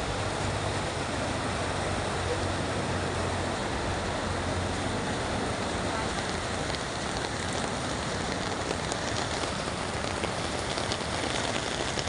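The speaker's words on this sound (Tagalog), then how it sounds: "lumakas na naman ang ulan guys" Heavy rain pours down outdoors in a dense, unbroken hiss of drops striking surfaces all around, loud and steady without a pause.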